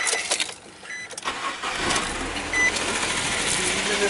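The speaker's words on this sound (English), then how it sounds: "We'll start it up, see how it runs, and go from there." A Nissan Maxima with a misfire cranks and catches: a short starter whir, then the engine settles into a rough, shaky idle with a busy mechanical clatter, heard close.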